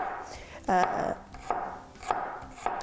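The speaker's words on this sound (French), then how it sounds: "Hacher l'ail." A knife chops garlic on a cutting board, a quick burst of sharp taps followed by a few slower single strikes, close and fairly quiet.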